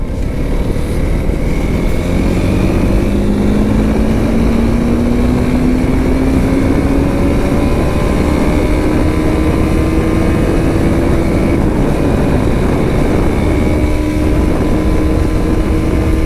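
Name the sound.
RTX 300 motorcycle riding in rain mode, fourth gear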